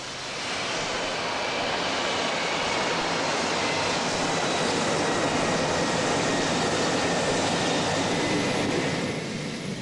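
At an airport, a taxiing aircraft produces a broad, steady roar that fills the clip at constant loudness, with no distinct events standing out.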